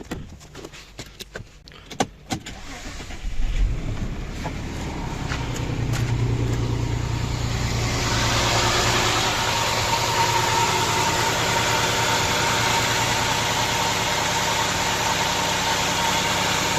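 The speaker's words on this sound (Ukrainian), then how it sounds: "запускаємо двигун і дивимося, як він себе поведе" A few clicks and clunks, then a VW Touareg 3.6 FSI engine cranks and catches around four seconds in, settling into a steady, rumbling idle nearby with occasional misfires.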